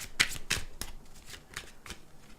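Tarot cards are shuffled close by in a few quick, crisp riffles and slaps, each a short burst with brief gaps, and no talk.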